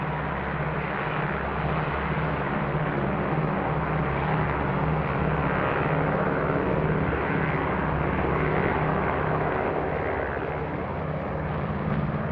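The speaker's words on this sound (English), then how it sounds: "and instrument planes prepare to take off" B-29 and C-54 aircraft on an airfield preparing for takeoff, a constant loud engine roar that holds steady throughout with no distinct changes.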